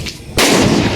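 A Diwali firecracker bomb goes off in a village street with a single sudden, loud, close blast, followed by a sustained roaring rumble after a quiet lead-in.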